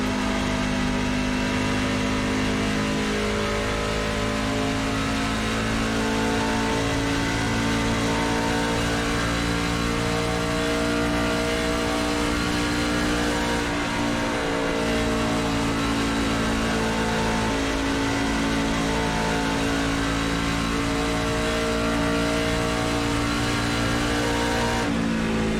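The engine of an iRacing NASCAR Truck Series truck at Pocono holds a steady, loud, droning roar with a strong harmonic whine. It carries on almost unchanged for the whole stretch, with only slight shifts in pitch and no talking.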